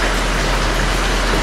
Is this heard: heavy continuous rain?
yes